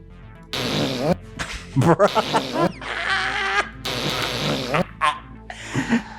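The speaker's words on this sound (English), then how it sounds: "No, the real fart." A recorded fart plays back as a series of loud, squeaky, buzzing bursts with uneven rhythm, sounding close and spread across about six seconds.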